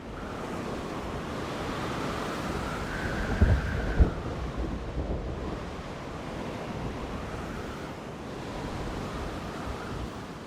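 A storm sweeps over a dinosaur park in the game Jurassic World Evolution 2, a loud continuous roar of wind and rain with a couple of low thumps, steady throughout.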